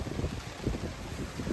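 Squall wind well over 30 knots roars around a sailboat on the open ocean, a loud, steady rushing gust buffeting the microphone, with low rumbling surges and no talking.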